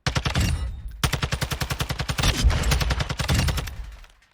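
Rapid automatic bursts from a BPZ40 hybrid weapon in the video game Warzone 2 rattle loudly in two long strings of closely spaced shots, with a brief pause between them and no talk.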